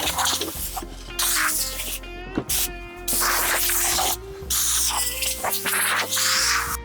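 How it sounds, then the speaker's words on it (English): Loud bursts of compressed air hiss in repeated blasts, spraying down a table saw, stopping and starting several times, close to the microphone, with no talking. "I'll use some air, spray it all down,"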